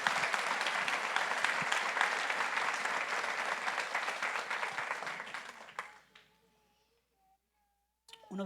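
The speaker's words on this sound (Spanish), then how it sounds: "Los hombres, fuertes aplausos para el Señor." A church congregation applauds loudly and steadily for several seconds, a dense wash of many hands clapping, before it fades out and leaves near silence with a few faint sounds.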